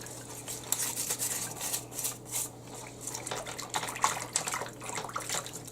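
Stained laundry is scrubbed by hand in water treated with Clorox 2 detergent stain remover, giving irregular wet swishing and rubbing bursts close by, with a faint steady hum underneath.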